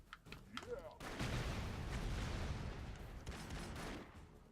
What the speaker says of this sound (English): that's Judge Dredd's special weapon. Homing missile.